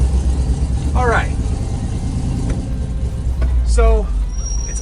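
A 1965 Ford F100 pickup engine idles with a steady low rumble close by, joined by a couple of brief squealing chirps and background noise.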